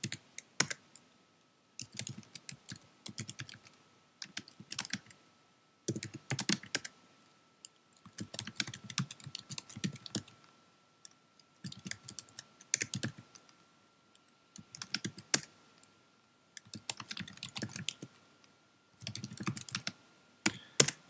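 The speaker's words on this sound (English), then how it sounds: "And then you type in the following commands." Typing on a computer keyboard as commands are entered: bursts of rapid, close key clicks separated by short pauses, repeated for about twenty seconds in a quiet room with no talking.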